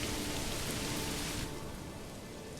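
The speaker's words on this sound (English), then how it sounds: "Got a storm coming." Steady rainstorm from the video game Manor Lords, a dense broadband hiss of rainfall that holds loud, then eases slightly after the midpoint, with no voices.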